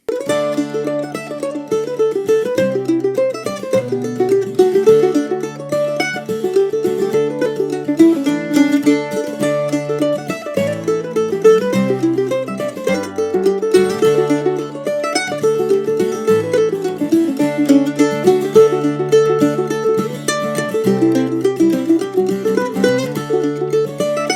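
A mandolin plays the Irish hornpipe Cuckoo's Nest, a lively, bouncing melody of bright plucked notes in steady dotted rhythm, solo and close.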